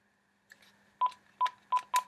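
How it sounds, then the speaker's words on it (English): Touch-tone dialing beeps from an iPhone calling a home phone: a soft click, then four short, clear keypad tones spaced about half a second apart, close and alone. "I'm gonna call myself on my home phone."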